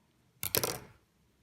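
Scissors give a single quick snip through thick t-shirt yarn, a short, close, crisp cut in an otherwise quiet room.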